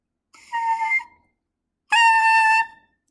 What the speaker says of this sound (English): that's the sort of noise you should get out of your mouthpiece